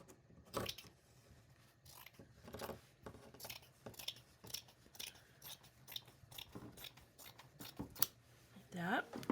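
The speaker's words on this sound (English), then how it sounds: "I'm gonna trim this up." Paper for a junk journal being trimmed with scissors, a series of short crisp snips scattered across the clip, close by, with soft handling noise between cuts and a quiet voice talking over them.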